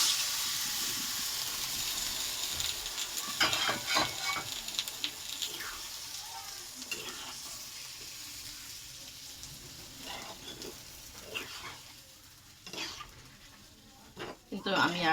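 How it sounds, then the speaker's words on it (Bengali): Shukto vegetables with bitter gourd sizzle softly in a little oil in a pan, with scattered stirring clinks and scrapes under a voice talking nearby. "দেখেছি আমি অল্প তেলে শুক্তো করা হচ্ছে"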